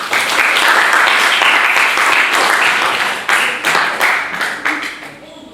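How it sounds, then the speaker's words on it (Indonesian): Classroom applause as students clap for a group coming forward during a teaching session, dense broadband clapping that fills the room for several seconds before thinning and fading out at the end. "Boleh kasih tepuk tangan dulu"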